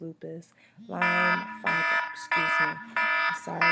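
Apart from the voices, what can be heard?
medication reminder alarm beeping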